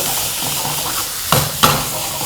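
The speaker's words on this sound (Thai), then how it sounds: "ถ้าเติมน้ำก็ต้องผัดให้เขาแห้ง" An egg dish stir-fried in a pan with a little added water hisses steadily, and two quick scrapes of a utensil stand out near the end.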